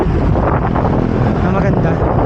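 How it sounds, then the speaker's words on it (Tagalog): Strong wind roars loud and constant across the microphone of a motorcycle rolling downhill on the Emilio Aguinaldo Highway near Silang, Cavite, a dense, buffeting rush filling the whole clip. "Konting ingat-ingat lang talaga tayo dahil sobrang mahangin nga."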